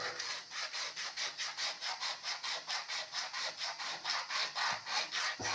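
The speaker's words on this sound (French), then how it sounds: "Il faut le frotter jusqu'à ce qu'il devienne couleur cuivre." Copper water pipe rubbed back and forth with emery cloth, a steady rhythmic rasping of about twenty close, even strokes that goes on alone without any voice.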